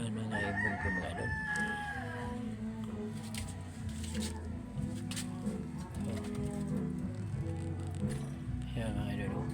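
A rooster crows amid other fowl clucking nearby, outdoors, with people talking over the birds throughout.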